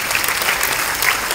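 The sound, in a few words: audience applause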